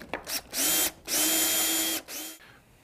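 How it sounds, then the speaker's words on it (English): A power drill tightening bolts during pool table assembly whirs in several short bursts, revving up and down with brief pauses between, loud and close, with no talking. "then I'll use the power drill to tighten everything up"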